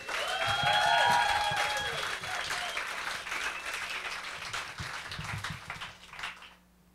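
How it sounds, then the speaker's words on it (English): Loud applause from an audience at a poetry reading, swelling early then gradually tapering off and fading out at the end. "So let's give Sarah and everybody a big round of applause."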